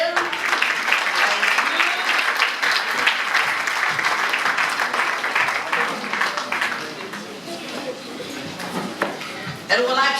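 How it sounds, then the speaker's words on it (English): Audience applause after a panel discussion on women in politics: sustained clapping from a crowd, loud at first and tapering off, with voices faintly audible under it near the end. "a round of applause again"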